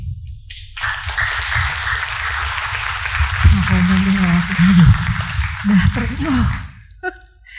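Audience applause after a poetry reading at an arts evening at Taman Ismail Marzuki in Jakarta, a broad steady clapping that swells and holds for several seconds, with a voice murmuring beneath it before it fades out.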